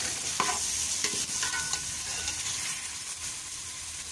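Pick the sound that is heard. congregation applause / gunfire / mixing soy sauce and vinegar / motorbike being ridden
mixing soy sauce and vinegar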